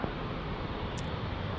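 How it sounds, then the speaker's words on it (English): A Southwest Airlines Boeing 737 MAX 8 at San Diego airport gives off a brief, even, broadband jet roar, moderately loud with no voices over it. "there's a 737 MAX 8 for Southwest Airlines"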